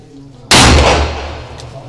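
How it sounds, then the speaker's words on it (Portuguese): A single loud pistol shot fires at an indoor shooting range during a basic shooting course, a sharp blast followed by a long, decaying reverberant tail. "faz mais um disparo pra checagem."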